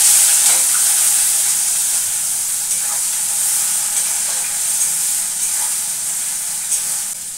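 Chopped onion goes into hot oil for mutton kasha and fries with a steady, close sizzling hiss that holds evenly throughout, with faint stirring touches and no talk.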